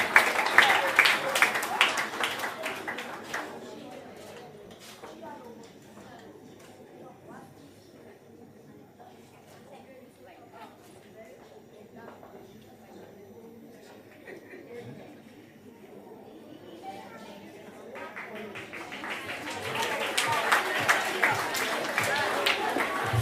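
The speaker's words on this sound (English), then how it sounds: "Let's give her a round of applause." Audience applause at a school graduation ceremony, dense clapping at the start that fades into crowd murmur and a speaking voice, then swells again into a second round of clapping near the end.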